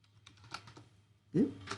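A few light key clicks from typing on a computer keyboard while adding a button in TD Snap, scattered and close, with a brief louder burst near the end and faint background hum.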